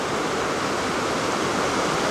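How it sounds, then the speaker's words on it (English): Stream water by the highway near Lincoln, New Hampshire, rushes in a dense, even roar, loud and constant, with no voices. "the water really likes the left side of this stream"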